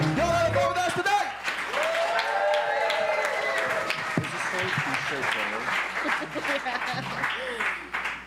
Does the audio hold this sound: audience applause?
yes